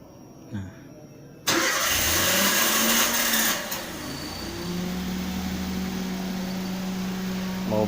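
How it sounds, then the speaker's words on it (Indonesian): A car engine is started remotely with its key left outside and its doors locked: a brief crank, then a loud roar that settles into a steady idle hum, heard close with no talk. "mobil sudah menyala"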